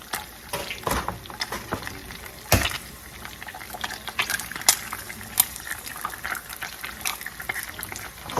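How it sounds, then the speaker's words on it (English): Bitter melon bubbling in a pot of boiling water, with irregular pops, clinks and bubbling over a low steady background, close by and without talk. "just like boiling this bitter melon and then adding vinegar and salt"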